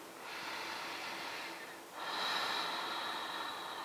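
Deep yoga breaths during a seated twist in a vinyasa class, one long airy inhale followed by a louder, fuller exhale, close and soft with no voice over them.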